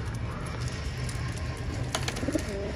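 Home-bred pigeons coo softly and repeatedly, a low murmuring burble, with a few brighter bird chirps near the end.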